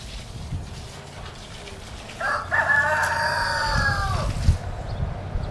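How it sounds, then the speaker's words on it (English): A rooster on a small farm crows once, a loud, drawn-out cock-a-doodle-doo close by, rising over a quiet outdoor background with a few soft clucks and rustles. "That's one of my roosters."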